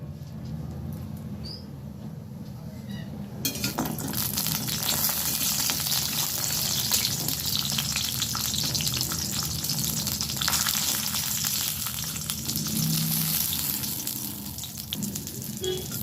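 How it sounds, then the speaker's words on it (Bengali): Bori lentil dumplings fry in hot oil in a kadai, giving a loud, dense, continuous crackling sizzle that starts abruptly after a quieter opening and runs steadily to the end. "দিয়ে আমি বড়িটা ভেজে নিচ্ছি।"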